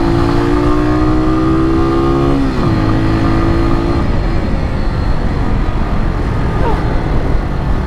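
A Kawasaki W175TR motorcycle with a 175 cc engine accelerates hard on a rough trail, its loud, close engine note climbing through a gear change and then settling into a steady roar.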